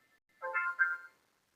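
A phone ringtone plays briefly at moderate volume, a short melodic phrase of two bright tonal bursts rising out of near silence in a classroom setting, with no talk over it.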